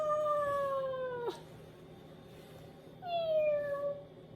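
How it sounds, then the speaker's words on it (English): A cat gives two clear meows, each a drawn falling cry, with a short gap between them over a quiet background. "Meow."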